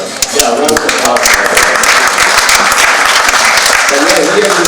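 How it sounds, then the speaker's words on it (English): A Rock N Roll Fantasy Camp Q&A audience breaks into steady, dense applause that stays loud and continuous throughout, with a faint voice beneath the clapping. "Yeah, round of applause."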